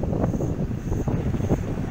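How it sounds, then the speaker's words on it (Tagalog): Gusty typhoon wind during Typhoon Ambo in Samar buffets the microphone as a steady, rough rushing roar that swells in short bursts, moderately loud with no voices. "So mayroon ng pabugso-bugsong hangin dito."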